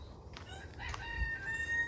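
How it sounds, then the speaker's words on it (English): A rooster crows on a rural homestead, a single drawn-out call heard fairly close over steady low background rumble. "There's our rooster."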